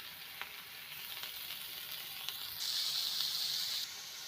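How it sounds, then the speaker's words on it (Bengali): Potatoes fry in oil in a pan with a soft, steady sizzle and a few faint clicks, growing a little louder and brighter near the end. "আলুটা একটু ভাজা ভাজা করছি।"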